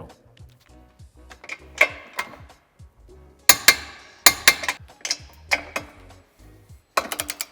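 Bolts on a tow hitch for a 2019-2024 BMW 1 Series F40 are tightened to 87 Nm, producing bursts of crisp metallic ratchet clicks in rapid runs with short pauses, close and fairly loud.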